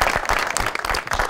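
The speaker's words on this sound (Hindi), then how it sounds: "बहुत सारी तालियां आसिफ साहब के लिए जी।" Studio audience applause on a television talk show, steady dense clapping throughout the short stretch, loud and close with no voices on top.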